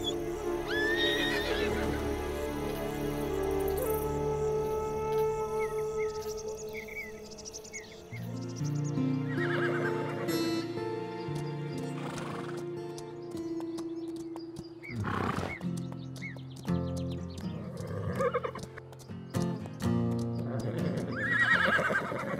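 Horses whinny loudly over a rumble of running hooves and commotion, with neighs repeating through the scene and a steady chirp of insects underneath.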